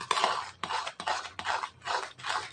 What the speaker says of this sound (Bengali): দুধটা ভালো করে মিশিয়ে নিব শিরার সাথে।